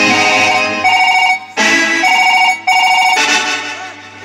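Telephone bell ringing on stage during a play, three loud rings of a trilling electric bell separated by short pauses.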